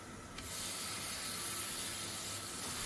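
Canned pineapple pieces fry in ghee in the same pan where cashews and almonds were fried for pineapple pulao, making a loud, continuous hissing sizzle that flares up after a quiet start and stays steady.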